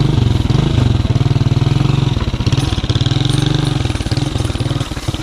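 A motorcycle engine idles and revs steadily nearby, a loud continuous rumble with a pulsing rhythm throughout.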